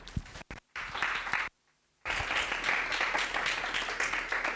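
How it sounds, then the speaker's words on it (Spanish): An audience at a science communication contest gives steady applause, a dense wash of clapping interrupted by a brief dropout near the start and then continuing evenly at moderate volume to the end. "Así que nada, le damos un aplauso."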